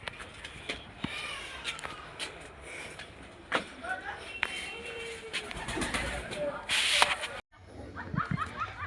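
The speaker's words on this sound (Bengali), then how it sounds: "এই দেখো পায়রাটা দেখো" A jumbo-sized, heavily feathered pigeon in a loft with other birds around, cooing softly now and then amid a noisy background of rustling and bird calls, with a brief loud burst near the end.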